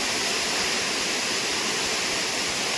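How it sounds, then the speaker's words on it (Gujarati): Water sprays from overhead pipes onto a large stone-block cutting machine in a tile factory, a loud, unbroken hiss of spraying water throughout. "ઉપરની જે પાઇપો દેખાય છે એમાંથી પાણી આવે છે, અને કેટલું સ્પીડમાં કટિંગ થઈ રહ્યું છે તમે જોઈ શકો છો"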